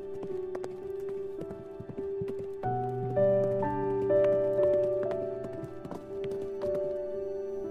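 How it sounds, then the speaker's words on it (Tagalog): A horse's hoofbeats clop steadily and rhythmically all the way through, set against a sustained musical backing that grows fuller halfway, with no voices. "sinakay ko siya sa kabayo para itakbo pabalik sa bahay nila"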